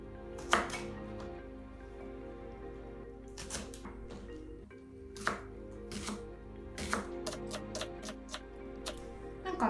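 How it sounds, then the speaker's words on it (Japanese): Green onions being chopped with a knife on a board: a run of sharp, close, irregular knife taps, some in quick clusters, alone without any talk. "それでは最後にネギを切っていきます。"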